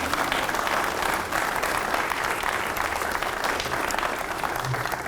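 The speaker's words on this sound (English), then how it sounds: "why don't you give them another round of applause" A congregation at a Veterans Day service claps for the choir in a full, steady round of applause, dense and sustained from start to finish with faint voices mixed in.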